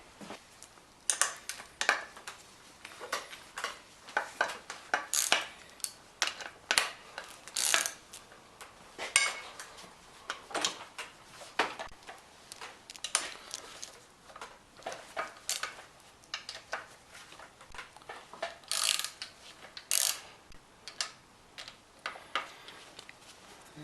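A wrench works loose 7/16 and 9/16 bolts on a Seahorse outboard motor, giving repeated close metallic clicks, ratcheting ticks and clanks in irregular bursts throughout, with no talking.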